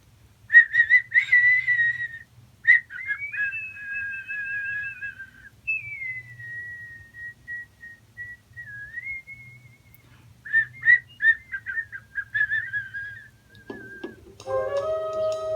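The Kolchak: The Night Stalker TV theme tune is whistled alone, with clear sustained notes and a few wavering trills, pausing briefly before resuming, with a low hum underneath.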